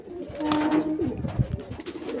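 Pigeons of the German panja breed, a male and a female, are let loose together and coo in low, close, throaty bursts with a rustle of movement.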